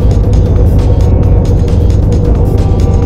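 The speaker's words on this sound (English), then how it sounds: "The truck is so loud." A loud, continuous truck engine rumble in the video game DayZ drones steadily throughout, heavy and close.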